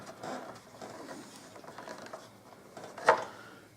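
A nut is threaded back onto a bolt on a Suzuki DL1000 V-Strom motorcycle, heard as faint close-up ratcheting and small metallic ticks, ending in one sharper clink near the end.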